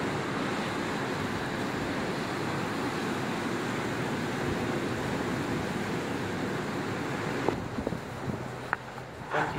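Ocean surf at the beach in front of a Panama City Beach hotel sends out a constant broad roar of waves mixed with wind buffeting the microphone, with a few faint knocks near the end.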